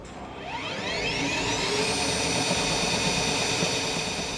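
A RIDGID K-46 cordless drain snake runs on auto feed. Its motor spins up with a rising whine that settles into a steady, loud, close hum.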